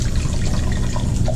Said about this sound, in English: We're going to add some beef stock up to the 1 cup point.